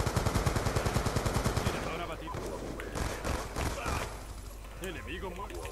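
Rapid bursts of automatic gunfire shooting down UAVs in Black Ops 2 on the Nuketown 2025 map, a dense rattling volley up front that thins into scattered shots under game noise.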